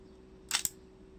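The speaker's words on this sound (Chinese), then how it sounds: "你瞧，它的快门不能闭合，应该是里面有一个叶片可以闭合" An AGFA camera shutter with a faulty blade that fails to close is operated, giving two quick, crisp mechanical clicks close by in an otherwise quiet room.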